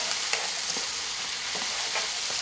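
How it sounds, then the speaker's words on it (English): Sausage sauce for lasagna sizzles loudly in a pan while being stirred, with a bright, steady frying hiss and a few soft scrapes from the spoon. "We're going to give this a good stir."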